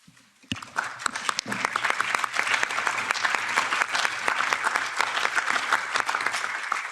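An audience breaks into sustained applause, many hands clapping steadily at a strong level for several seconds, filling a large room at a European Parliament session.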